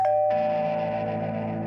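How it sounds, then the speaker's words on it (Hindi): A doorbell chimes with a two-tone ding-dong, the second tone ringing out and slowly fading, loud and close. "अचानक से घंटी बजी।"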